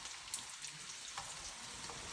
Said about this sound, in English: First thing I'm going to be adding my pepper.